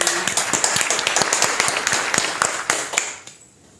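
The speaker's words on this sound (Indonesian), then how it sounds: "mari kita sambut dengan tepuk tangan" A small group claps for a university education podcast on Kiai Haji Ahmad Dahlan: dense, crisp claps close by for about three seconds, thinning out and fading to quiet at the end.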